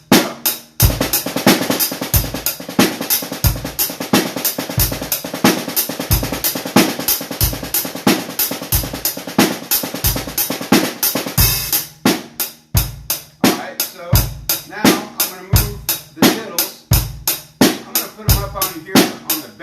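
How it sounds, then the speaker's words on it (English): A drum groove plays steadily near the mic. Quick doubled strokes on a snare drum mix with kick and cymbal hits, and the pattern shifts partway through. "Now I'm going to move the diddles to the snare drum."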